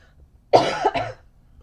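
A single close cough with two quick bursts in a quiet room.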